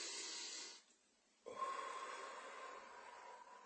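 A single long breath exhaled during an abdominal-breathing exercise, a soft airy rush that fades out, then after a short pause a steadier hissing breath that continues close to the microphone.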